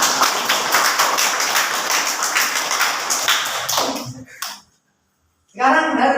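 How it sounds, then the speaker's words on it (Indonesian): A class claps for a student group, giving a dense, lively round of hand claps that lasts about four seconds, then thins and stops. A short silence follows before someone speaks. "Beri aplaus untuk kelompok 4."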